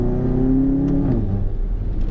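A Volkswagen MK7 GTI with a Cobb Stage 3 tune and catless downpipe accelerates hard on a road, a loud droning engine note rising steadily and then dropping briefly at a shift.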